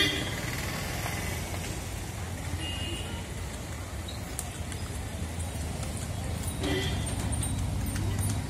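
A horse cart moves along a street in Dindigul, its hooves clip-clopping under a steady traffic background, with occasional horn toots and a voice speaking over it.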